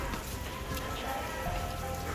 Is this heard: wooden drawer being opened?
no